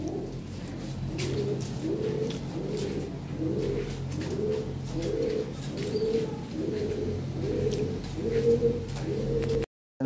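A pair of blue barless Lahori fancy pigeons coo in a steady, repeating rhythm of soft low calls, close and clear over a faint background hum, with some light rustling.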